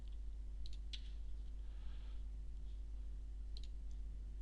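Several sharp mouse clicks and keyboard arrow-key taps on a computer, sparse and close, over a steady low electrical hum with no talking.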